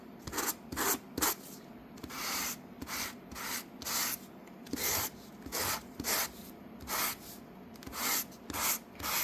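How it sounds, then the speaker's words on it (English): Sandpaper rubbed across a paper craft piece in repeated strokes, circular and straight, giving a steady series of scratchy rasping bursts at close range with brief pauses between them, no talking. "You can sand in circles, you can sand in a line."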